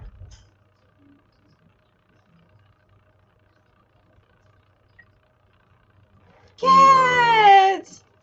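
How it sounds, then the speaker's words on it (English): A cat gives one clear, drawn-out meow close by, with a bending pitch, after several seconds of near silence and a faint bump at the start. "Cat!"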